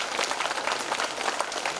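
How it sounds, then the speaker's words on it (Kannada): An audience at a Women's Day event claps loudly and steadily, a dense wash of applause with no break, heard close. "ಜೋರಾಗಿ ಒಮ್ಮೆ ಚಪ್ಪಾಳೆ ತಟ್ಟಿ"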